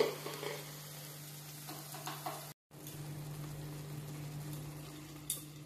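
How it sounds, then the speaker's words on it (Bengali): Spices sizzling and frying in a pan over medium flame for a paneer and pointed gourd (potol) dalna, a steady crackling hiss with occasional stirring, briefly cut out midway, no voices. "আমি মশলাটা কষিয়ে নেব।"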